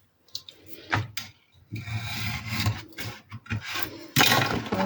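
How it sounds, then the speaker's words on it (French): Protruding wood is cut off an advent calendar structure, with short irregular rasping and sawing strokes close by, separated by brief pauses and ending in a louder burst. "on va découper ce qui dépasse"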